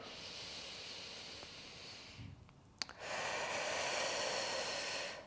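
A slow breath drawn in during a posture exercise comes as a long, soft, airy hiss, then another after a brief pause, quiet and close with nothing else over it.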